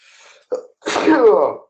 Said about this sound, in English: you never get a sneeze on this show, so that one was free